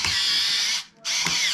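A power screwdriver whines steadily while driving screws into the carriage assembly of a Gotek floppy USB emulator for an Akai S2800 sampler, two close bursts separated by a short pause.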